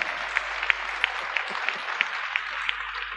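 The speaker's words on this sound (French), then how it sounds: "Vous pouvez applaudir, vous pouvez applaudir." A hall audience claps steadily at a professional evening panel in Côte d'Ivoire, with sharp individual claps standing out over a continuous, moderately loud patter.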